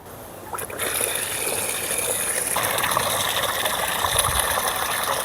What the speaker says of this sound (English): Open the tap and let all the water come out for 30 seconds to a minute, depending on your length of the hose.